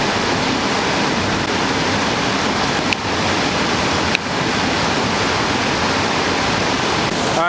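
Stevens Creek water rushes steadily and loudly from close range, a dense continuous broadband wash with no pauses, with two faint clicks in the middle.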